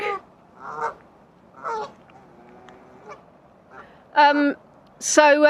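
Canada geese honk and squabble on a lake, loud, close bursts of harsh honking arriving in separate clusters with quiet gaps between, the last calls the loudest.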